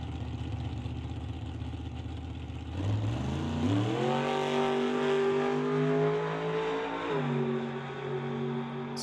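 A doorslammer drag racing car launches on the track, going from a rough idle into a loud, rising full-throttle run with gear-change steps as the engine note climbs, then holds a high roar near and steady.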